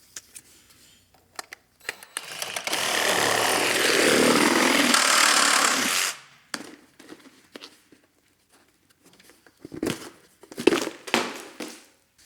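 A power tool whines loudly for about four seconds while cutting off the nut caps on rear bumper bolts of a Jeep TJ, then scattered clanks and handling noises follow in a quiet workshop.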